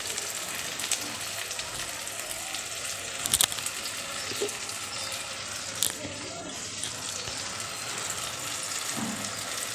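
Ingredients fry in a pan with a continuous broad sizzle, punctuated by a couple of sharp clinks and stirring scrapes, with faint voices and background sounds mixed in.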